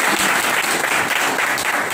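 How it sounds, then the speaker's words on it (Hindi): Students in a classroom training session on electronics repair clapping together, a dense, steady burst of applause that stays loud and close throughout. "बहुत बढ़िया ताली बजा दी।"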